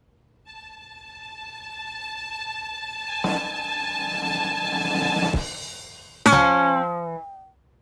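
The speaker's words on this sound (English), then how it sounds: "a guitar player plays guitar and would sound like this on the guitar." An electric guitar in a cartoon plays a long, ringing sustained note that swells into a dense, distorted chord and ends in a sudden crash of wobbling, falling notes, close and solo with no voices.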